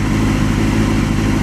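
A Honda CBR250RR motorcycle idles just after its carburetors were balanced and jets cleaned, giving a loud, close, steady low engine rumble with an even pulse throughout.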